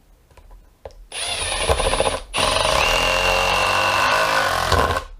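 A DeWalt impact driver drives a bit holder in two loud, buzzing bursts after a brief pause, the second longer and steady with a rising whine, close by with no talk.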